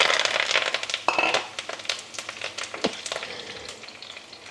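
Ginger and curry leaves fry in hot oil for a Baccaurea pickle, giving a close, busy sizzle with crackles, light stirring scrapes and an occasional clink of a utensil, gradually easing in intensity.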